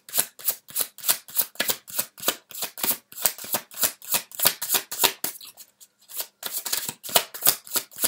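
Tarot cards are shuffled close up in quick rhythmic bursts of papery riffles, one brief pause near the end, with no talking.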